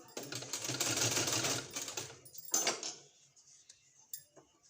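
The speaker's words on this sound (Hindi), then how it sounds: "इस तरह से सिलाई लगाते जाना है" Sewing machine stitching along a folded trouser hem, a dense continuous mechanical clatter for about two seconds, then a shorter burst and a few faint clicks as it stops.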